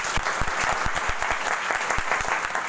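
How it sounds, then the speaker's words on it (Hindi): Loud, steady audience applause from a seated crowd at a talk, continuous dense clapping throughout with no pause. "इसलिए जोरदार ताली होना चाहिए उसके लिए।"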